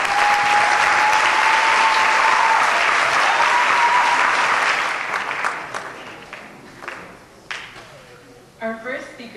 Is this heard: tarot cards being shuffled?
no